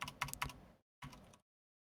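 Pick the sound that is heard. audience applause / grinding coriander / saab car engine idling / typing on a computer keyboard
typing on a computer keyboard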